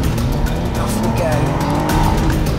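A car pulls hard through second gear at speed on a race track, engine roaring loudly and continuously with some tire noise from inside the cabin.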